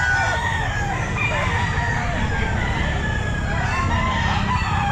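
Roosters crowing and hens clucking at an outdoor pet market, several birds calling over one another in a loud, steady din with a dense low background.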